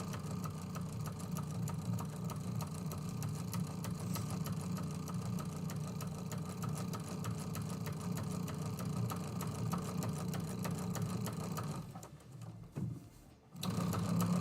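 A sewing machine quilting a project runs steadily and loudly at close range for a long stretch, its motor hum continuous until a brief drop near the end.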